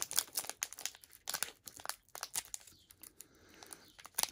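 Crisp crinkling and tearing of a foil Pokemon Shining Fates booster pack being opened by hand, close and fairly quiet, with bursts of rustle and a sharper rip near the end.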